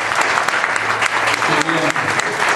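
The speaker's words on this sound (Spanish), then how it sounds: "Un fuerte aplauso y un beso también." Wedding guests applaud together at a church ceremony, a loud, close burst of clapping lasting a couple of seconds, with some voices mixed in underneath.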